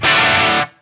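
A short, loud burst of distorted electric guitar played through an Atomic Amplifire amp and cab model with light room reverb and high and low cut, one sustained chord that rings briefly and then cuts off cleanly.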